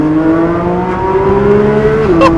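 A Porsche GT3 engine drones loudly and steadily while the car is driven with the windows cracked slightly open, its pitch holding even and then shifting briefly near the end.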